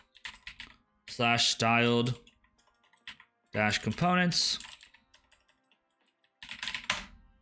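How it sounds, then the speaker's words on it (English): Computer keyboard typing while installing packages during a coding session, quick clattering bursts of keystrokes heard before and between stretches of someone speaking. "I'm sorry that my typing is terrible"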